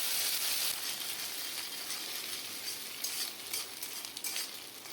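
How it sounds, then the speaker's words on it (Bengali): Eggs scramble in hot oil with a bright, constant sizzle, while a spatula stirs with soft scrapes and clicks that grow more frequent toward the end, heard close. "ডিমটাকে ভালো করে নেড়ে চেড়ে ওটাকে আমি ভুজিয়া করে নিয়েছিলাম"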